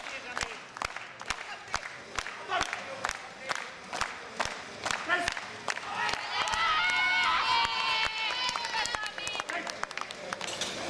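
People in a gym clap and cheer after a squat attempt of three reps at 250. The sharp, rapid claps of a small group build into a dense burst, and voices sound in between.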